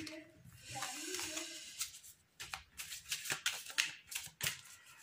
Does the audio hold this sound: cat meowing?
no